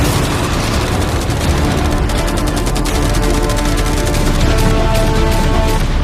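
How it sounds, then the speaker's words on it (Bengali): A video game barrage of fireworks, arrows and catapult shots fired at a yacht gives a dense, loud, continuous crackle of rapid bursts and blasts over a low rumbling drone, with no voices. "অনেক ফায়ারওয়ার্কস, অ্যারো এবং ক্যাটারপুলস, এই সব একসাথে তোমার ইয়টের দিকে এখন ছোড়া হবে।"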